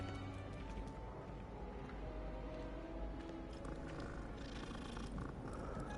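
A cat in Hogwarts Legacy purrs softly while being petted, a faint continuous rumbling purr with a few light game sounds and no talking.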